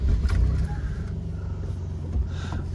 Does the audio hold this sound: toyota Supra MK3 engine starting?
yes